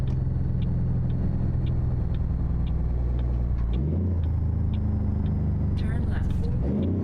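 Engine of an old-school Harven FLB truck hauling a triple reefer in American Truck Simulator, a steady low rumbling drone with a shift in pitch partway through, under continuous talking and a faint repeating ticking.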